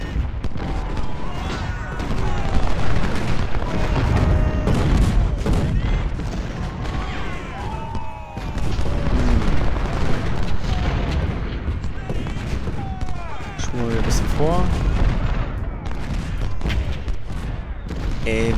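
Repeated booming cannon fire and explosions from a Civil War battle in the video game Ultimate General: Civil War, dense and loud, with voices and game sounds throughout.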